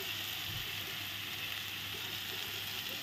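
Spices with black cumin seeds sautéing in a pan with a little added water, giving a steady, continuous sizzle and frying hiss throughout.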